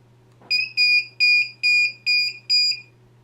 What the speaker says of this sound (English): And it's beeping like crazy.